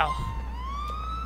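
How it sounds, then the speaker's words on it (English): Ambulance siren in the LCPDFR police game, a single rising wail that sweeps upward and holds, steady and moderately loud over a low engine hum. "Oh, that's an ambulance."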